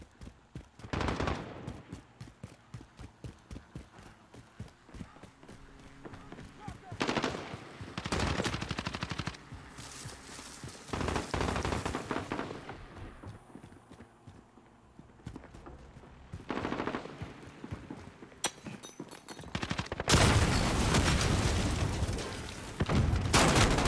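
Gunfire in Call of Duty: Modern Warfare comes in dense bursts of rapid automatic shots alternating with single reports and quieter gaps, loud and close throughout.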